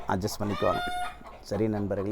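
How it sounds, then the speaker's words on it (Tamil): Village chickens cluck in the background beneath someone talking steadily in Tamil, their calls faint and partly masked by his voice. "கோழி, அதே மாதிரி குரங்கு,"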